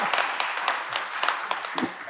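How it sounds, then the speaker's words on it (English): A small crowd gives sustained applause at a Franklin County, Washington commissioners meeting. The patter is dense and even, with occasional louder individual claps, and no talking. "That was applause because I don't have any more business to conduct tonight."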